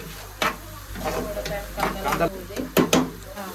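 Curry leaves and onion stir-fried in a pan, a close sizzle with a spatula scraping and knocking against the metal several times in an uneven rhythm.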